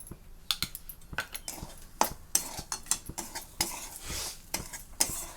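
Moong mixture roasting in ghee for winter moong laddoos, stirred with a spoon that scrapes and clinks against the pan in quick irregular strokes, each scrape sharp and close, with no voices.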